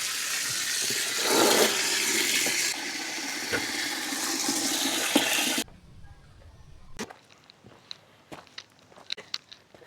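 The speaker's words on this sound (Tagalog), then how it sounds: "Lakas ng tubig." Strong gush of water at a campsite, a loud broadband rush filling the first half then stopping abruptly, followed by quieter scattered knocks and small handling sounds.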